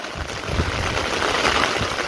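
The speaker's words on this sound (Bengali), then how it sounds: "বৃষ্টি তো থামার নাম নিচ্ছে না" Heavy rain pours down steadily on a village garden during a storm, a dense, unbroken hiss that fills the air at close range, with no voices.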